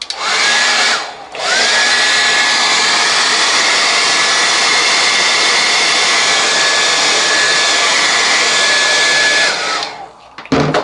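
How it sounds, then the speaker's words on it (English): A hair dryer blows steadily on a wet watercolor painting for about eight seconds, a loud, even whoosh with a high whine that starts after a brief cutoff and stops near the end. "I'm going to use my dryer now"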